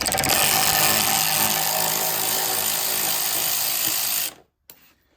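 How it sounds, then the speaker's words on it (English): A powered ratchet removing headlight bolts on a Mazda MX-5 NC Mk3. A loud, close buzzing whir runs continuously for about four seconds, then cuts off, followed by a brief faint clunk. "Ratchet on there."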